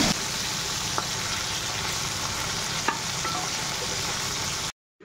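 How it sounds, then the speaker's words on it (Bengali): Several hilsa fish heads fry together in a wok, giving a steady, dense sizzle with a couple of faint clinks before cutting off abruptly. "একসাথে কতগুলো মাথা ইলিশ মাছের, এই যে কড়াইয়ের মধ্যে"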